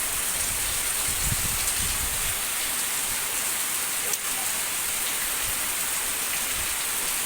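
Water running steadily into a roadside drain, a constant broad wash of flowing, splashing water close by, with faint voices at times.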